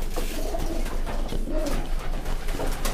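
Pigeons coo softly and repeatedly, their low throaty calls rising and falling over a constant background hiss.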